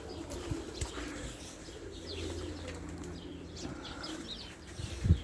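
Racing pigeons circling and coming down to land on a loft and a henhouse roof, soft wing flaps and faint cooing far off outdoors, with a louder flutter near the end.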